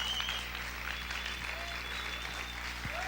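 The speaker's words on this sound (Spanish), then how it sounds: "Vamos a aplaudir fuerte al Señor." A church congregation applauds during a sermon, a steady dense wash of clapping at moderate level that holds through the whole stretch with no pauses.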